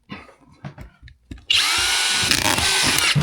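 A power drill drives screws into a drywall buttboard, with a few light knocks and handling sounds first, then a loud, steady, close whirring run of the drill that holds for the rest of the moment.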